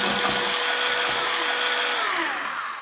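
A small mini vegetable chopper whirs loudly, its blades grinding a couple of roughly cut carrot pieces, with a steady motor drone and a few knocking thuds early on before the whine slowly drops away near the end.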